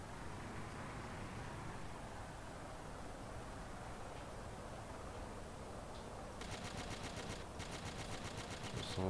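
Rapid machine gun fire in Battlefield 1942 on the Uman Pocket map. Steady battlefield noise builds into fast, evenly spaced rattling bursts over the last few seconds, fairly loud, with no voices.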